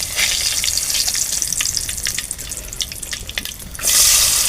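Curry leaves hit hot oil while tempering khichdi, a loud dense crackling sizzle that runs steadily, then swells into a harsher hiss near the end, with no talking.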